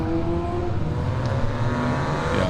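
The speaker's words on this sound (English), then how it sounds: "We're back to the cord mics as the supercars take off." Formula supercars pulling away from the grid at a Power Series Round 7 race meeting, a steady blend of loud, droning engine notes holding throughout with no one speaking.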